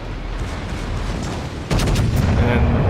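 Heavy battleship turret guns firing in a World of Warships naval battle aboard the USS Iowa, a sudden loud broadband boom at mid-clip over steady rumbling game ambience, with no talk.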